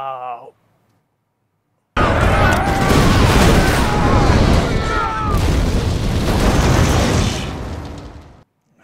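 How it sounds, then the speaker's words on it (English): A loud, sustained explosion from an episode of Battlestar Galactica, a dense rumbling blast that erupts after a brief voice and a short silence, roars for several seconds, then dies away. "It's 2 explosions in a week."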